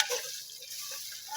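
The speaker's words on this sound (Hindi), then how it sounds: "जब तक कि ये भून रहा है" Tomatoes and green chillies fry in masala for a fish shorba, giving a steady, close hiss of sizzling oil that runs without a break for the whole short stretch.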